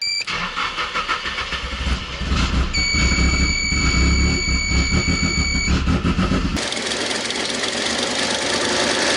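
A Nissan 180 car engine runs rough after being fitted with new copper spark plugs, a close, loud, uneven chugging with irregular pulses and a brief high tone partway through.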